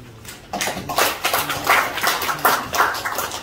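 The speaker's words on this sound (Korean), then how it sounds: "다시 한번 큰 박수 부탁드리겠습니다." Audience at a Korean political gathering applauds an introduced guest, a dense round of hand clapping that swells in uneven bursts across a few seconds, close and fairly loud.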